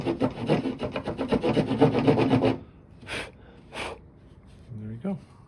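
Hand file rasping across a scored edge on a wooden CLC teardrop camper panel, a fast run of about a dozen close, loud strokes, then two brief rubs and a short breathy sound after a pause.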